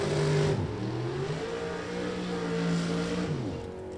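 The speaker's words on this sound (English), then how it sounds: "Chris Knudsen, C-stick car, making his run down the racetrack" A drag racing car with a C-stick setup accelerates down the racetrack, its engine revving through rising and falling tones with shifts, heard loud at a moderate distance.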